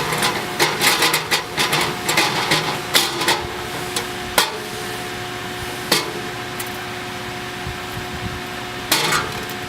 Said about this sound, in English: I'm going to take a pair of needle nose pliers, I'm going to tweak it back to center it back over top of that notch.